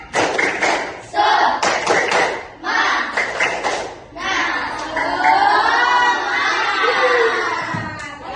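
A school class performs a tepuk semangat clapping chant, bursts of rhythmic hand claps alternating with children's voices chanting and shouting together in a classroom, loud and close.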